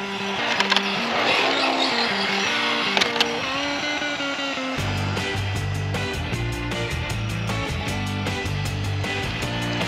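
Tamiya BT-01 Toyota Supra RC car driving in rear-wheel drive, a whirring electric motor that rises in pitch, then louder buzzing with rapid clicks and rattles as it runs close by.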